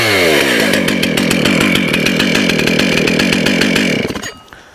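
Stihl MS311 chainsaw running loud and close at a steady high idle with a rapid chain rattle, then cutting out sharply near the end and fading to quiet.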